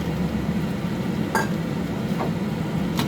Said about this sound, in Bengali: ভেজে রাখা মাছগুলো সব দিয়ে দিলাম।